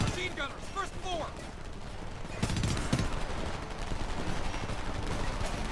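Dense gunfire in the Homefront video game, with machine guns firing at enemies on a first floor, growing heavier and steadier from midway as the shots pile into a continuous loud fusillade; a voice briefly calls out early on.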